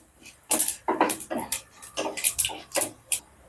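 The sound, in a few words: mustard seeds spluttering in hot oil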